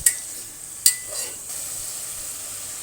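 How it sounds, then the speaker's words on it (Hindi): Mutton frying in a pot for biryani, a steady soft sizzle with a couple of sharp crackles and spatters near the start, heard alone with no talk. "और इसको हम 5 मिनट तक भूनेंगे"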